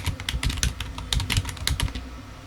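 Rapid typing on a computer keyboard as code is written, a dense run of close, crisp key clicks in irregular bursts, loud and clear with no talking.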